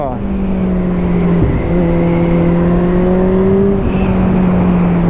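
A Kawasaki ZZR 1400 motorcycle accelerating hard, its engine note loud and close as the tone climbs steadily, dips briefly at a shift, then rises again, with strong wind rush around it.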